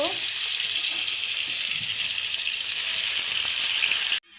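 Baim fish pieces rubbed with turmeric and salt sizzle steadily in hot oil, a loud continuous bright crackle that holds evenly throughout before cutting off sharply at the end.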